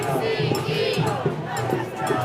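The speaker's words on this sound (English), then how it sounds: "New Yorkers are out here saying, ICE out of our city" Protest crowd chanting against ICE at a New York rally, a dense mass of voices in rhythmic repeated bursts, loud and steady, heard from behind the crowd.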